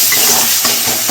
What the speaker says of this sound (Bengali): দিয়ে দিলাম সেদ্ধ করে রাখা ওল আলু